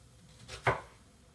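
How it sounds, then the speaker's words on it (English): Kitchen knife cutting grooves into an onion on a cutting board, a single crisp chop ringing out close by in an otherwise quiet moment. "I'm just going to make a bunch of grooves this way across"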